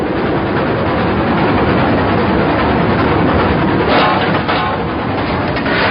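A train running through a railway tunnel more than 6 kilometres long at over 3,000 metres altitude, the longest on the line, with a steady, loud, continuous roar and rumble lasting throughout, close and unbroken.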